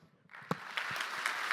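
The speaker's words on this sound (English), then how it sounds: "Big applause." Conference audience at a programming talk breaking into applause, starting abruptly after a brief quiet moment and building into steady, moderately distant clapping.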